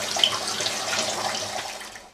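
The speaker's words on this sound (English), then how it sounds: "Because we are flushing the filters." Tap water runs steadily while the filters of a Lurun reverse-osmosis purifier are flushed on a well-water supply, a continuous close splashing hiss that fades out toward the end.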